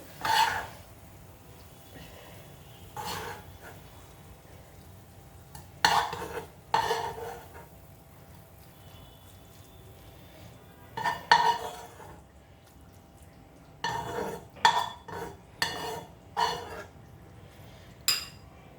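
Cooked greens being served from a pan into a bowl: intermittent scraping and clinking of a utensil against cookware in short bursts, with quiet pauses between them and no talking.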